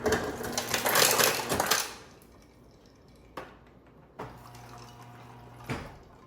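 Ice cubes rattle and clatter out of a refrigerator ice maker dispenser in a loud rush, followed by a few separate clunks and knocks.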